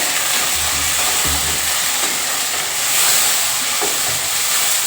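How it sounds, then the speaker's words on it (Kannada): Onions and tomato fry in a pan with a loud, continuous sizzling hiss close up, with a few clanks of stirring under the steady crackle. "ನಾನು ಇವಾಗ ಈರುಳ್ಳಿ ಹಾಕ್ತಾ ಇದ್ದೀನಿ"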